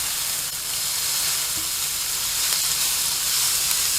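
Bluefin tuna cheek frying in oil over high heat, a dense, steady sizzle and hiss filling the whole stretch, close and loud with no voices.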